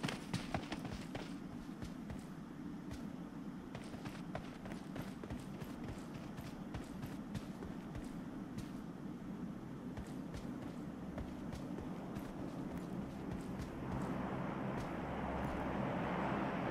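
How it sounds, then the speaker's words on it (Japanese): Running footsteps in the battle royale shooter PUBG, a steady rapid patter of close steps over a constant low ambient rumble, growing slightly louder and brighter near the end. "足音するけど、どこに行くか全然わからない"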